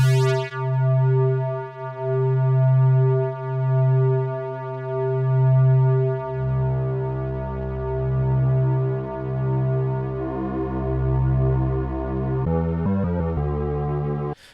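Synthesizer in Bitwig Studio with sample-and-hold modulation, playing a pure tone whose pitch and level pulse in stepped, rhythmic jumps that grow denser and more erratic before stopping abruptly, with no voices.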